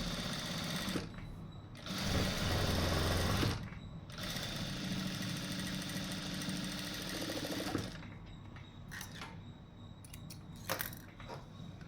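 A sewing machine stitches piping around a blouse sleeve, running in two longer motor bursts early on and then a series of short, stop-start runs, fairly quiet and with no talk.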